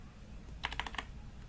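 A short, quick run of about five or six keystrokes on a computer keyboard while entering a Cisco switch command, close and crisp but fairly quiet over a faint steady hum.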